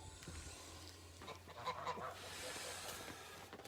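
Geese honk faintly in the distance, a few short calls over a quiet outdoor background.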